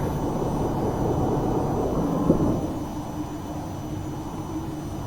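A steady, loud engine roar from an aircraft taking off in a flight simulator game, a broad rumbling drone that swells slightly and then evens out, with no voices.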